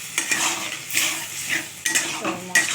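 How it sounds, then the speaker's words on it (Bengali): A spoon stirs and scrapes potatoes through a yogurt spice paste of chilli, turmeric and salt in a pan, with irregular clinks and scrapes over a light sizzle of frying, close and fairly loud. "এখন আমি এই মশলাটার সঙ্গে এই আলুটা কষাবো।"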